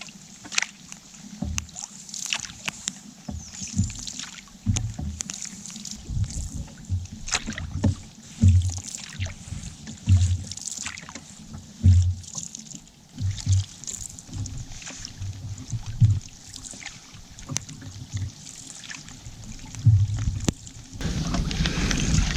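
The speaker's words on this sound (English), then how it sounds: "Now we get to paddle for a bit again." Canoe paddling on a wilderness trip with a dog, steady rhythmic strokes and soft water splashes repeating close by, with wind rustling across the microphone and no talking.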